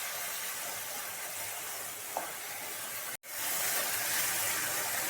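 An ilish fish head cooks with ash gourd in a pan, giving off a steady loud hiss and sizzle, briefly cut off for a moment and then resuming stronger.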